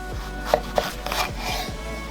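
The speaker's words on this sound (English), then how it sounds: "We're going to slice it lengthwise," A kitchen knife slicing a jalapeño lengthwise on a cutting board: a few crisp close cuts and soft scraping strokes, moderately quiet, with no talk.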